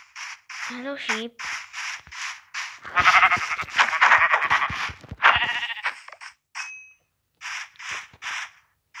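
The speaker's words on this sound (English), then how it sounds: "Hello, sheep." Repeated short sheep bleats from the video game Minecraft, a quick run of separate nasal calls; the middle stretch is busier and louder with layered bleats, one or two brief chime-like pings near the end.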